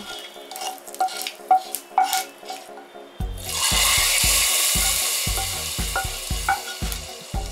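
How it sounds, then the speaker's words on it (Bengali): Hot hing tempering in oil poured into a pot of South Indian sambar, setting off a sudden loud, steady sizzle after a few seconds of quieter kitchen clinks, with rhythmic low thumps of stirring beneath the hiss. "8-10 সেকেন্ড ভেজে নিয়ে ফোড়নটা সাম্বারে ঢেলে দিচ্ছি।"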